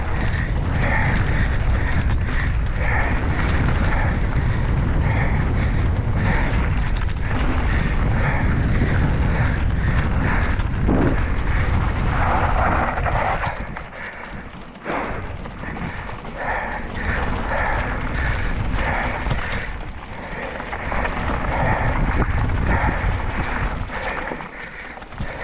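Wind buffeting the microphone while mountain biking at a bike park on a Specialized Stumpjumper EVO, a loud continuous low rumble that fills the whole stretch, easing slightly partway through, with no talk.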